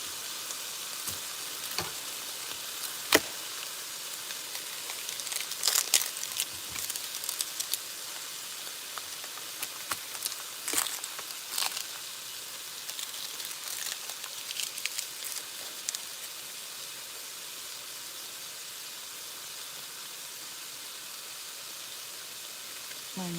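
Tempeh, onion and ginger fry in sesame oil with a steady, soft broadband sizzle and scattered crackles and stirring clicks, while a voice speaks now and then over it.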